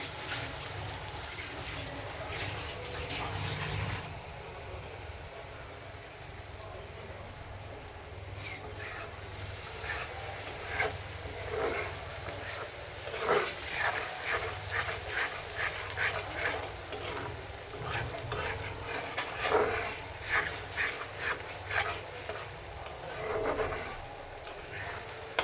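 Spices sizzle and fry in a pan as they are stirred for a loitta shutki cabbage dish, a steady close hiss broken by scraping, clattering stirs that grow busier toward the middle and end.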